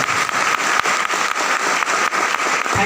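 Audience applause at a business gathering, dense sustained clapping from a crowd, loud and continuous for a few seconds with no voices over it.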